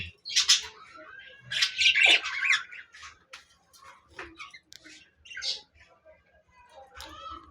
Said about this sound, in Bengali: এক পাখি আরেক পাখির সাথে লাগছে যে পাখিটাকে কামড়াবে